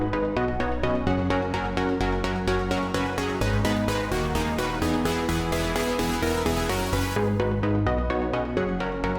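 A Serum synth pluck loop repeats in a steady rhythmic pattern while filter cutoff automation slowly opens it into a brightening riser; the sound stays loud and even in volume, with the top end cutting off sharply near the end.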